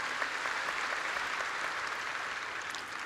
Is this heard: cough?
no